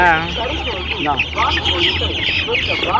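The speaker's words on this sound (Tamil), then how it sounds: "2 சேவல், மீதி 8 பொட்டை" Chickens cluck busily close by, overlapping calls in a noisy cluster, with a few higher squawks and background chatter from the flock.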